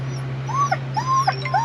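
Dogs whimper in a vehicle on a forest road trail in Virginia, with a few short rising whines and yips up close over a constant low engine hum.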